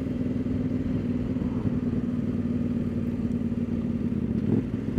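A CF Moto 800 MT motorcycle fitted with a link pipe exhaust idles with a steady, low, even engine rumble, close by and continuous, with no voices.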